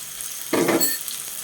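Chili powder hits hot oil with other masala ingredients in a pan for katla fish curry, giving a brief close sizzle lasting under half a second against a quiet background.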